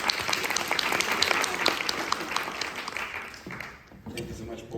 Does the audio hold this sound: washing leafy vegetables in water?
no